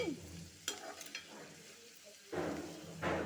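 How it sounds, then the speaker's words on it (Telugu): Green chilies fry in oil over a low flame, giving a steady close sizzle broken by a few sharp scrapes of stirring and a louder burst of crackling near the end. "ఈ నూనెలో ఇవి సన్నసెగ మీద వేగాలండి"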